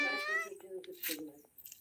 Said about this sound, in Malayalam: ഇതാ സാരമുള പൂച്ചക്കുട്ടി പൂച്ചക്കുട്ടിയല്ല പൂച്ചമ്മ